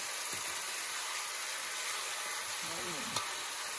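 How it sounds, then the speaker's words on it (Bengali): Chicken with potatoes fries in a pan for a Bengali-style chicken dish, giving a steady, loud sizzle throughout, with a brief voice near the end. "দিয়ে কিছুটা নেড়ে নেওয়া হচ্ছে।"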